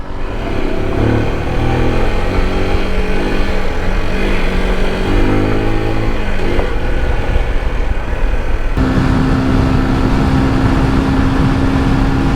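Small scooter riding over a rough road, its engine droning steadily and close with a bumpy, rattling texture, a steady tone rising toward the end.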